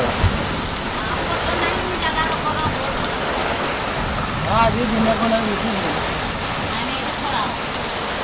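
Heavy rain with strong wind in Mayurbhanj, a dense constant roar of rain on surfaces close by, with someone speaking over it.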